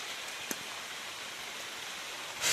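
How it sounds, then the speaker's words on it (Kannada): Heavy rain falling on a farm, a steady broadband hiss of downpour throughout with a brief sharper patter near the end, moderately loud and continuous. "ಅಷ್ಟೊಂದು ಮಳೆ ಸ್ಟಾರ್ಟ್ ಆಯಿತು"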